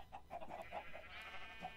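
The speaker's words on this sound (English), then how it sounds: "Don't get out, chickens. Do not get out." Chickens in the Minecraft video game cluck in a quick series of short, mid-pitched blips, moderately loud and close, with a faint steady background hum and no talking.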